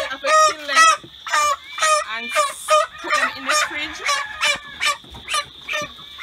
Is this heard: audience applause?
no